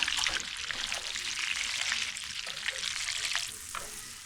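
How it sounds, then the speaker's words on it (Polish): Chicken breast portions frying in butter with garlic cloves and rosemary sprigs in a pan, giving a steady, dense sizzle and crackle throughout with small pops, close and fairly loud, with no voices. "smaż przez kilka minut"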